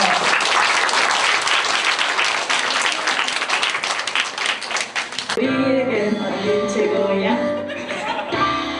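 Wedding guests in a church ceremony applaud the newly married couple, a loud dense burst of clapping for about five seconds that cuts off abruptly into tonal music with some voices.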